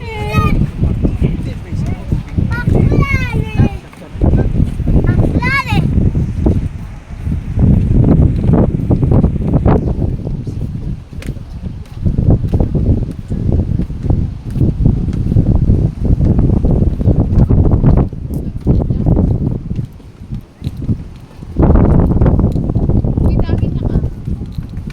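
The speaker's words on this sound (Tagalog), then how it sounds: "Lakas ng hangin." Strong wind buffets the microphone in loud gusts and roaring bursts on Sabang Boardwalk in Ilocos Sur, Philippines, with people talking over it.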